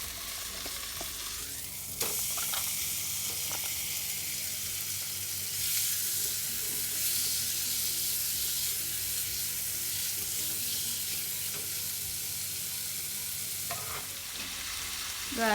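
Chicken sizzles loudly in a hot pan with cooked spice paste, a steady crackling fry with occasional scraping as it is stirred, close by and with no talking.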